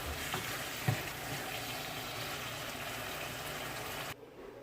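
Ground turkey sizzling in a pan on a home kitchen stove, a steady, faint, crackling fry that continues evenly before dropping away abruptly near the end.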